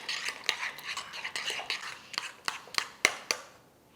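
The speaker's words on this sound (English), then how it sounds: "Let's mix that all up and see what it looks like first." A dry spice mix of pepper, onion powder and garlic powder is stirred in a bowl. A spoon scrapes and clicks in a quick, close rhythm with sharp taps near the end, then the sound stops.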